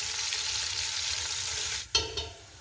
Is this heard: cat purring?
no